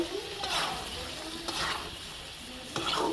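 Fish and radish masala fries in a pan as a spoon stirs it, with a low sizzle broken by several scraping strokes, close by with no clear talk.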